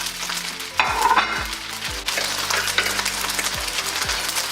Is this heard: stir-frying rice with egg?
yes